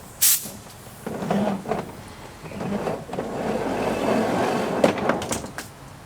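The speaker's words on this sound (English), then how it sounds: "I am using an air hose with a little nozzle, little blower" Air hose with a small blower nozzle blasting air across a flood-soaked Honda HRU196 lawn mower, giving a steady broadband hiss with short louder bursts and rattles, close and alone.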